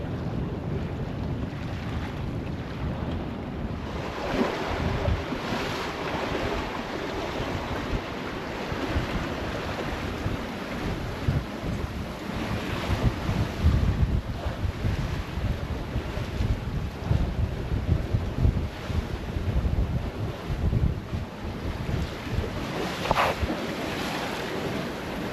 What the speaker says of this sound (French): la jolie mer.